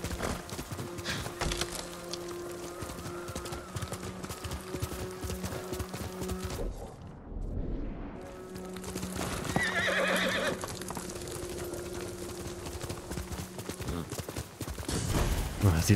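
A horse's hooves clip-clop in a steady galloping rhythm, with a loud neigh partway through, set against a continuous soundtrack from the video game Ghost of Tsushima.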